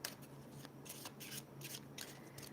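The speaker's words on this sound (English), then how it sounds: "I'm going to shuffle" A deck of cards being shuffled by hand, quiet, close riffles and snaps repeating in short bursts about every half second.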